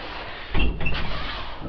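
An elevator door in a Warsaw apartment block on Pawła Nerudy street opens or shuts with a single close thud and a short rattle. Low rumbling and hum follow it.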